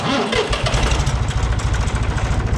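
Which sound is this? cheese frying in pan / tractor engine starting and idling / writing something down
tractor engine starting and idling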